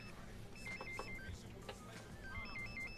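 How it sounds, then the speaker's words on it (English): A mobile phone ringtone chirps in a quiet room in a comedy film, repeating a short stepped electronic melody, faint and somewhat distant against a low background. "Whose phone is that? Yo, whose phone is that?"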